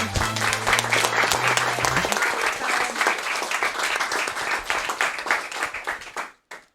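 Audience applause at a live speedrun marathon event for New Super Mario Bros. Wii, a dense, loud wash of clapping from many hands that thins out and stops abruptly at the end, with a low hum underneath at first.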